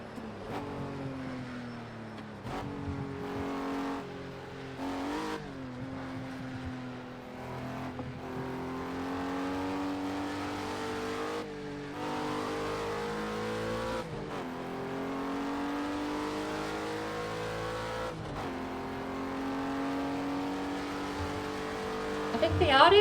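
Racing car engine in Project Cars 2 during a hotlap, with a steady high revving drone, repeated gear-change dips and tire noise, under someone talking.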